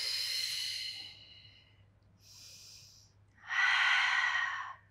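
Slow breathing during a Pilates spine mobility exercise: a long exhale, a short quiet breath, then a louder, forceful breath, each close and breathy with pauses between.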